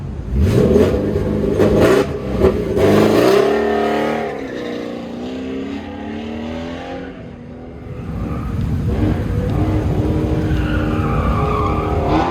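A 1963.5 Ford Falcon with a Voodoo V8 revs and roars past at an autocross event, engine pitch climbing and falling through gear changes, with tires squealing and the sound fading then returning.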